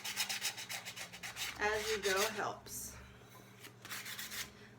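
Rough, repetitive scraping of sanding against a rim, steady and close, with a person talking briefly partway through.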